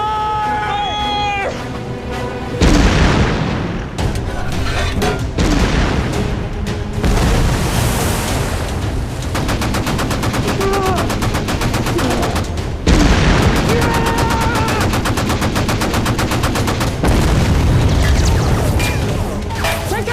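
Warship guns fire during a war-movie naval battle, with heavy booms and rapid bursts of gunfire layered over a dense score and shouted commands, loud and continuous throughout.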